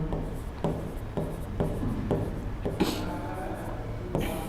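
Marker or chalk strokes on a board as a teacher writes a number during a lesson on counting squares in figures: a series of short, close scratchy strokes in a steady rhythm, with no talk.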